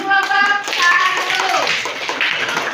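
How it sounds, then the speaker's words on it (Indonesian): Students in a classroom clapping for a presenting group. Voices come first, then a loud burst of scattered hand claps follows close by. "Beri tepuk tangan untuk kelompok"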